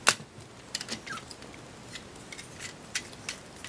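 Plastic parts of a Transformers Prime Voyager Ultra Magnus toy clicking and snapping into place, a handful of small, sharp, close ticks spread unevenly over a quiet background.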